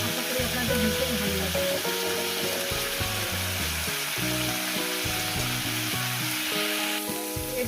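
Snake gourd fries with egg in a hot pan, giving a dense, continuous sizzle with crackling, bubbling oil and occasional stirring scrapes, close up and steady throughout.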